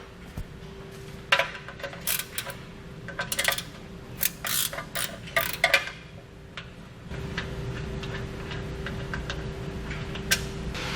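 Socket wrench with a 13 mm socket removing bolts from a lower radiator support, irregular clusters of ratcheting clicks over a steady low hum, then a quieter stretch.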